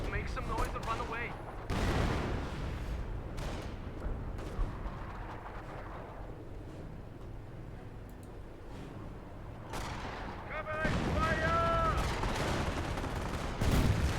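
Heavy artillery shelling and gunfire in Company of Heroes, a wartime strategy game. Booming blasts and rumbling barrages roll continuously under game voices, with sharper gunfire bursts near the start and again near the end.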